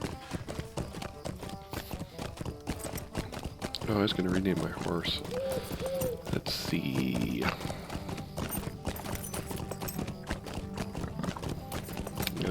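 Rhythmic clip-clop of horse hooves while riding in the video game Lord of the Rings Online, a steady galloping beat with a neigh partway through, under a voice.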